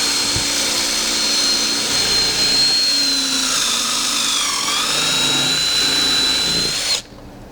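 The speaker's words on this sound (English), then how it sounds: "We're also going to make pilot holes because we do not want to risk splitting our wood." A power drill boring pilot holes into wood for a farmhouse-style desk, one loud steady whine held for about seven seconds with a slight dip in pitch partway, then stopping abruptly.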